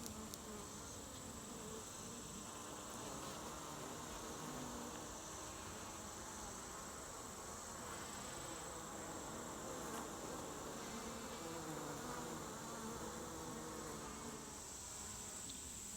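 Honeybees drone steadily at an open hive during an August inspection, a dense, continuous buzz of many insects close by with no voices.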